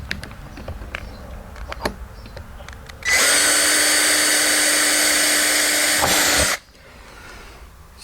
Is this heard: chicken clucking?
no